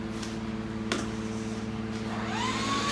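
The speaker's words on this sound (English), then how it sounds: "Now this will fill up with all the debris instead of the vacuum itself." A shop vacuum with a 16-foot dust extraction hose runs with a steady, droning motor hum throughout, and a thin rising whine creeps in near the end.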